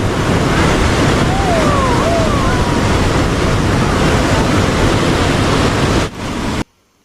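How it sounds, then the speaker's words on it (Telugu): Loud, steady rush of falling water at Ethipothala waterfalls fills the scene, a constant broadband roar that cuts off abruptly near the end. "ఇక్కడ నుంచి చూస్తుంటే చాలా బాగా అనిపిస్తుంది వాటర్ సౌండ్ అండ్ ఆ ఫ్లో"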